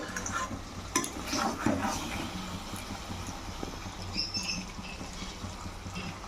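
Mutton being stirred and fried in a kadai, close and steady: a continuous soft sizzle with scraping, clattering stirs and a few louder knocks of the spoon against the pan.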